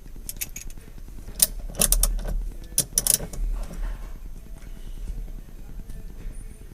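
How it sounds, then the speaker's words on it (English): A ratchet wrench loosens the 16 mm center bolt of a steering wheel in a BMW E46, giving bursts of close, sharp metallic clicks and clatter at uneven intervals. "Now you just gotta take out that center bolt, which I believe is a 16."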